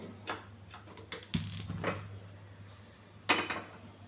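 A metal pressure cooker is set down on a gas stove with a few clanks and knocks. One sharp metallic clatter stands out, followed by quieter bumps against a low steady hum.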